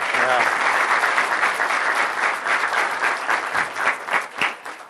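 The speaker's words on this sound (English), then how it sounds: "I like it when you clap and I ain't even done nothing" An audience at a scholar presentation breaks into loud, sustained applause, close and full, with a brief voice at the very start.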